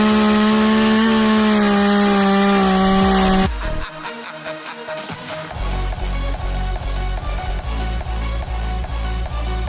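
Chainsaw carving a pumpkin, cutting away checkerboard pieces around the stem: a loud, steady engine whine first, then a choppier run of rough cutting bursts as the blade bites through the pumpkin flesh.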